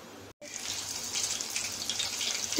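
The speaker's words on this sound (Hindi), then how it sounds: "टिक्के हमारे फ्राई हो रहे हैं" Chicken tikka frying in cooking oil on a tawa, a steady close hiss and crackle of sizzling that runs continuously after a brief break near the start.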